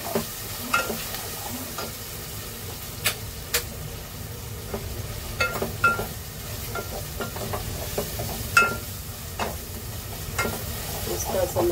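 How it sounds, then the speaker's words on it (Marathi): Chopped onions soften in a pan over a medium gas flame, sizzling and frying steadily with repeated clinks and scrapes of a spoon stirring them, close up and with no speech. "कांद्याने आपल्याला मस्त असं मऊसर शिजवून घ्यायचं आहे. गॅस मिडियम ठेवते."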